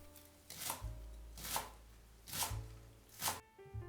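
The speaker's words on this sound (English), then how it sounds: "Mince 50 grams of shallots, 40 grams of spring onion and 25 grams of cilantro." A knife mincing shallots, spring onion and cilantro on a board gives four evenly spaced, crisp chopping bursts with pauses between, close and clear, no voices.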